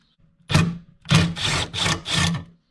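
Screwdriving on the 10mm screws of an Audi B8.5 camera mount: one short grinding, rasping burst, then four close, steady bursts of the same scraping sound in quick succession.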